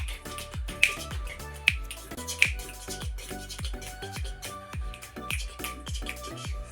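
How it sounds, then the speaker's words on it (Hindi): A baby claps her hands in a steady run of soft, light claps, repeating about every half second close to the listener. "बजा रही है अब ताली।"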